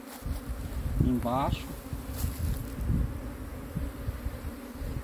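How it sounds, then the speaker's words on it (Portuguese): Apis honey bees drone with a steady, close buzz during a hive capture, lasting throughout, while someone speaks briefly over it. "Pra ir tocando as abelhas."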